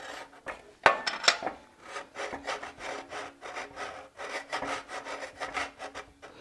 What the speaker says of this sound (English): because the file is laying flat on this side of the case and it's a flat file